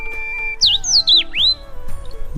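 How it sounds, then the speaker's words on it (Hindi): A melodious bird calls in hilly country, several clear rising and falling whistled notes in quick succession, fairly close and loud over a steady low background hum. "यहाँ पे आपको एक पक्षी की आवाज़ जो सुनाई दे रही है, बहुत ही सुरीली है।"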